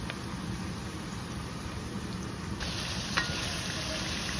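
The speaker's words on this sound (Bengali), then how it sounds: "মশলাটা কষিয়ে ক্যাঁকড়াটা এখানে দিয়ে ওটাকে কষাবো" Crab fries in a spiced masala with coriander, garam masala and a bay leaf, giving a continuous close hiss that turns slightly brighter partway through, with a small clink near the end.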